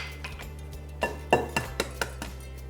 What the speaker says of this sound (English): Now I'm adding 1 egg